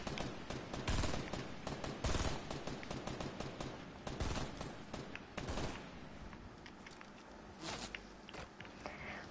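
Rapid automatic gunfire in a shooter video game, dense bursts of shots crackling continuously and loudly with scattered sharper cracks, no talk over it.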